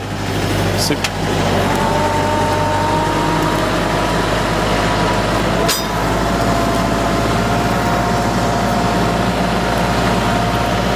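A tractor pulls a moldboard plow through grass, its engine a loud, close, steady drone that runs unbroken the whole time with a faint whine on top.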